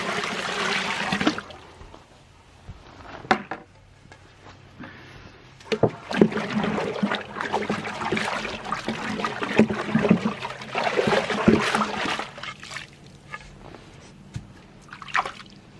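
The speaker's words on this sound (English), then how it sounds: "After you stir it up, you add some cold water." Cold water poured into a bucket of hot water and stirred, giving irregular splashing and sloshing with some louder bursts, close by and alone without talk.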